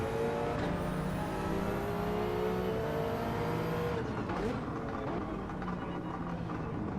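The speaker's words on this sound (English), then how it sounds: "Listen to that Toyota go." Toyota race car engine in a GT-class racing video game, a loud continuous engine drone with shifting pitch and some tire noise, heard close and steady throughout without speech over it.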